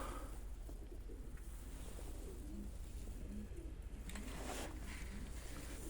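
Pigeons at a bird keeper's loft give soft, low cooing calls in short repeated phrases, fairly close, over a steady background hum with a brief rustle near the end.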